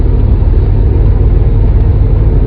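A Chevrolet cruising at 70 to 80 km/h under 2000 rpm makes a steady, close interior rumble of engine and road noise, low and continuous with no change in pace.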